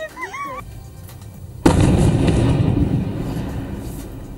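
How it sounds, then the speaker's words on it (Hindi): A sudden loud blast from a drone attack in Moscow hits partway through, followed by a sustained roar of rumbling noise and debris that slowly fades, after a brief stretch of quieter background sound. "धमाके की आवाज आप सुन रहे हैं।"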